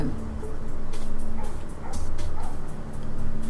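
A dog whimpers and yips in the video game Shadowrun: Dragonfall, several short whines rising in a loose sequence over low game ambience.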